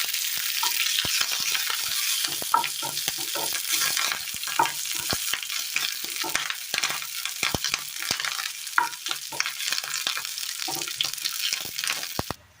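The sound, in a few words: curry leaves and mustard seed tempering sizzling in oil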